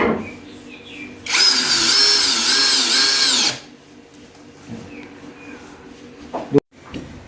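A power drill drives a screw into wood while a folding wooden door is being installed. One loud whining burst lasts about two seconds, with quieter clicks and handling noises before and after.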